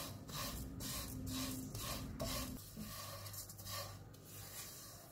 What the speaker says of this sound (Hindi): 1 टेबल स्पून घी लेंगे, इसमें 150 ग्राम सेवइयाँ डालेंगे। चूल्हे को कम रखेंगे और इनको 3 से 4 मिनट तक